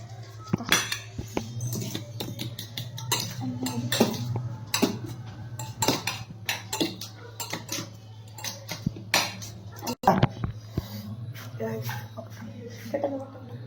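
A fork scrapes and clinks against a bowl in repeated irregular taps while hot Korean ramen noodles are stirred, over a steady low hum and occasional talk.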